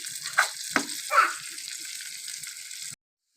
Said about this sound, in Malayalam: അങ്ങനെ കടവരാൽ വറുത്തെടുത്തിട്ടുണ്ട്